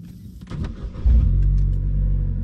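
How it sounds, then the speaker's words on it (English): A Vauxhall Corsa with an aftermarket exhaust cranks and fires about halfway through, then settles into a loud, steady low idle rumble close by. A few clicks and rustles come before the start, and no one talks. "Let's turn on the car, ready?"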